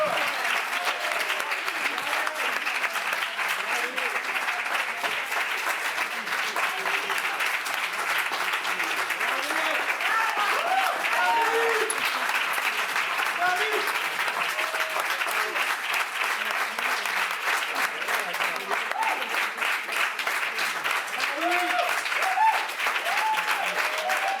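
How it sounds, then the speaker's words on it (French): Steady applause from the press audience greets a film team at a Cannes press conference, a dense, even patter of many hands clapping that holds constant throughout, with faint voices underneath. "On les applaudit très fort"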